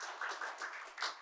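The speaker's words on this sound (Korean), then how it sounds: "역시 박수로 모셔보도록 하겠습니다." Audience applause welcoming a speaker at a game industry investment talk, a soft, distant patter of clapping from a modest crowd, steady and fairly faint throughout.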